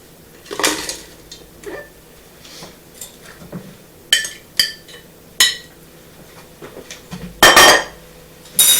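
Chopped frozen strawberries tumble into a large pot in several separate bursts, with sharp clinks and knocks against metal and a utensil scraping, close and fairly loud, between quiet pauses, with no talking.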